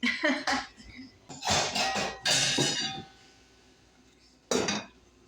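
A metal lid clatters onto a pot of boiling cinnamon chocolate mixture on a home stove, several close clinks and knocks of cookware in quick clusters, with someone speaking between them.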